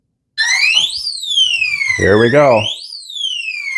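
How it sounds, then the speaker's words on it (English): Biometric drop safe sounding its alarm after repeated failed fingerprint attempts, a loud electronic siren that sweeps up and down in pitch, with someone speaking over it partway through. "I think it's 5 is when the alarm goes off."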